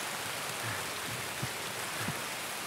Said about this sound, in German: Der scheiß Regen macht mich ab langsam.